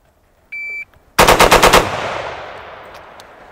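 Rapid gunfire from an FRT-15L3 forced reset trigger rifle at an outdoor range: a short timer beep, then a fast burst of about seven loud, sharp shots ending with a long ringing echo.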